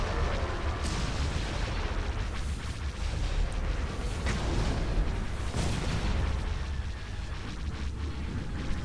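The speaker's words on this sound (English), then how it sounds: "Cannons loaded. Preparing another volley." A cannon volley in a Star Wars video game, with dense rumbling booms and repeated blasts layered over a continuous roar, loud throughout.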